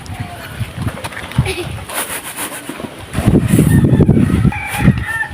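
Chickens around a rural Bru village, with a rooster crowing and hens clucking at moderate distance, mixed with people talking nearby.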